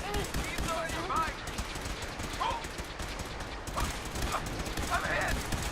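Gunfire in the video game Fallout 4 crackles in dense, continuous bursts under background game sound, loud and sustained with no clear breaks.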